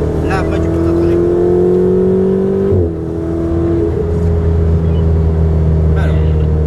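A car engine drones loudly and continuously while braking on a driving track, its pitch sliding down and then settling, with someone talking over the engine noise.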